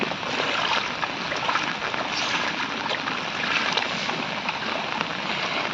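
Water runs steadily along a small village stream channel, a continuous broadband rush with no pauses. It stays moderately loud and close, with no voices over it.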